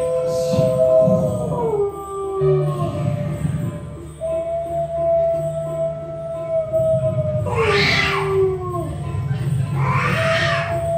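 A cat gives several drawn-out, wailing meows that slide downward in pitch, some long and some short, over a low background hum with brief gaps between calls.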